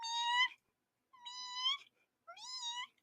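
A voice imitates a cat's sweet little meow three times in a row, each a clear, drawn-out, high mewing call separated by short silences, close and alone.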